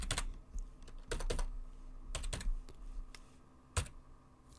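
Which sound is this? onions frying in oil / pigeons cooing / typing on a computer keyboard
typing on a computer keyboard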